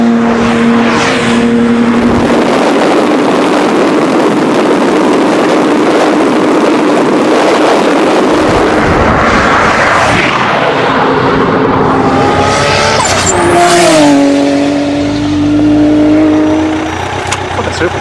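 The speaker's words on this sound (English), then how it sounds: "The Supra allows the Lamborghini a little bit of a jump, knowing that it's got enough horsepower to chase it down" Toyota Supra and a Lamborghini racing side by side, with loud, sustained engine roar and rising revs as turbo boost comes on, then climbing gear-change whines near the end, dense and close throughout.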